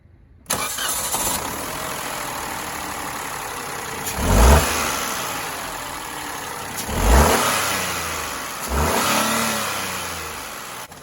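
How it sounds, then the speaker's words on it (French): A Peugeot 208 phase 2 engine starts and idles, then revs up sharply three times, each surge rising and falling back to a steady hum. "même poussé dans les tours, ce moteur ne fait pas énormément de bruit"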